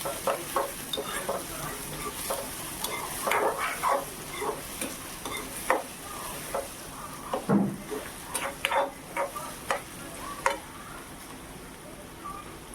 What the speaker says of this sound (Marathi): कांदा आपण खूप छान शेकून घेऊया